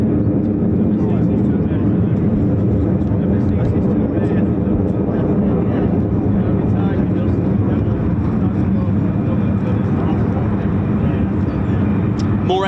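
An F-35A fighter jet does an unrestricted quick climb at RAF Lakenheath, a steady, loud, broad roar that holds for the whole stretch without letting up.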